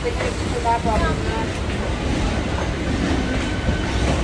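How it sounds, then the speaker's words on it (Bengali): Rumbling local train in motion with rhythmic clatter of wheels on track, loud and close, with faint voices underneath. "উঠে গেছি লোকাল ট্রেনে"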